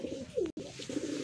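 Young racer pigeons give a brief, quiet low coo at close range, with soft rustling around it.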